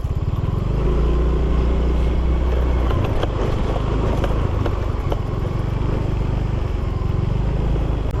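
A motorcycle rides along a rough rural road, its engine chugging loud and close with a steady throttle and a drop in pitch partway through, rattles and bumps from the uneven surface throughout.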